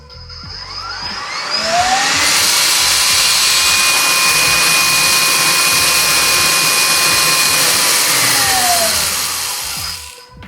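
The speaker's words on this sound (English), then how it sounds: "press this button, it's gonna unload the coffee" An IKAWA Home Roaster unloads freshly roasted espresso blend coffee with a steady, loud fan-driven whoosh that rises over about two seconds, holds with a faint tone, then tapers off near the end; no voices.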